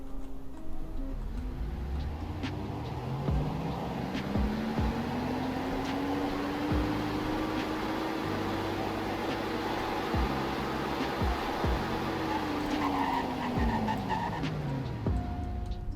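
A 4-wheel-steering truck in the Roblox game Greenville speeds up during a speed test, its engine pitch climbing steadily, holding high, then sliding back down, heard alone over a faint ticking hum.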